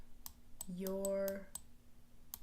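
A low-battery stylus clicks faintly at a desk, sharp ticks scattered in the background over a steady tonal hum and a passing voice.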